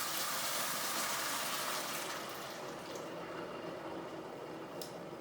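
Chicken stock is poured into a pot of dry quinoa on a stovetop, a soft, steady liquid rush that eases slightly partway through, fairly quiet and without talk.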